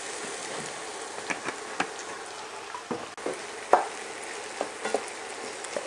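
Onions sizzling and frying in oil for pancit, a continuous crackle with scattered sharper pops and occasional stirring scrapes, close and moderately quiet.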